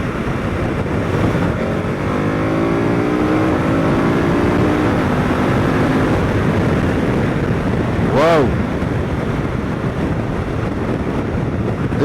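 KTM 1290 Super Adventure S motorcycle engine pulling hard through rising revs and gear changes, close and loud under constant wind roar, with a brief sharp burst near the end.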